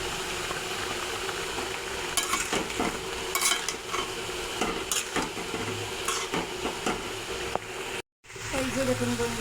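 Fried tengra fish added to boiling curry and stirred, with scraping and clinking of a spoon against the pot over a soft bubbling sizzle. The sounds come in irregular bursts, then stop briefly before resuming.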